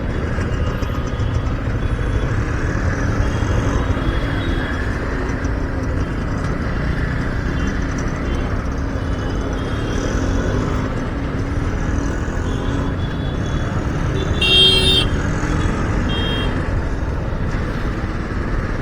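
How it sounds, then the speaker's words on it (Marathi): Dense road traffic heard from a moving motorbike on a ride, a steady close rumble of car and motorcycle engines filling the whole stretch, with no talk. "ट्रॅफिक खूप आहे, ट्रॅफिक."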